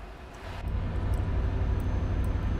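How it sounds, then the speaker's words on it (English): Fighter jets roar overhead in Euro Truck Simulator 2, a deep rumble that swells after a soft start and then holds loud and steady, with no talking. "they are jets I think fighter jets that's the correct name"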